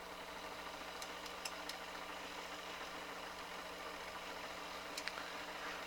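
A Pioneer CT-8R cassette deck with a fault, fast-forwarding or rewinding tape, gives a steady, quiet mechanical whir and hum, with a few faint clicks near the start and end.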